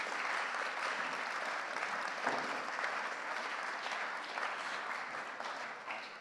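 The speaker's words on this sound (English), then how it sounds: "Give a round of applause." A room full of people at a forum's closing applauds steadily, a dense wash of clapping with no pause.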